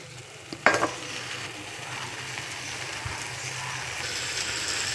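Ground spices and ginger paste sauté in a pan for prawn curry, a sharp utensil clink at the start, then a steady moderate sizzle with soft stirring scrapes.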